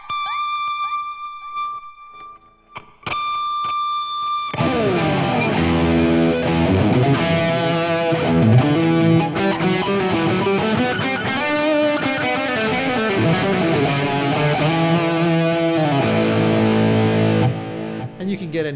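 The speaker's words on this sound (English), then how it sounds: "So you can go from like super clean to face melting leads and everything in between." Gibson SG electric guitar playing a few clean notes, then a loud, sustained run of heavily distorted lead playing with echo effects that fills most of the stretch, close and continuous before easing off near the end.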